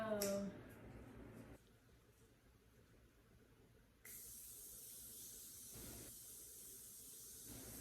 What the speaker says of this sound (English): we can go with some setting spray and then we'll be all done